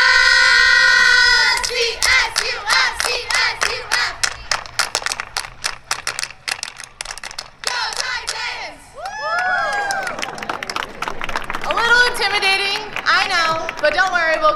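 Large crowd at a CSUF Titans event doing a rhythmic group clap, accelerating claps followed by cheering and children's shouts, loud and close with voices throughout.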